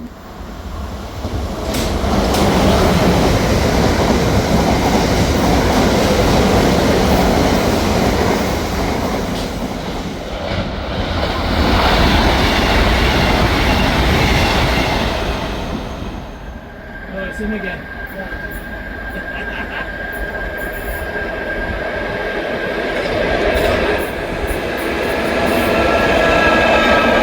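A train rumbles past close by at Campbell Road, Eastleigh, with rhythmic clattering over the rails, fading and building again as cars pass; a voice speaks briefly.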